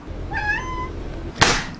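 A cat gives a single clear meow, followed shortly by a brief dull thump.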